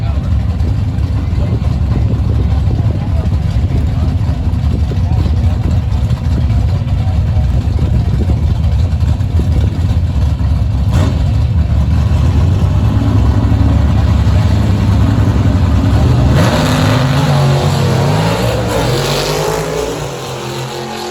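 Drag racing cars, among them a Chevy Nova, roar loudly and steadily at close range, engine revs rising and shifting in pitch near the end before fading slightly, with a commentator talking over the noise.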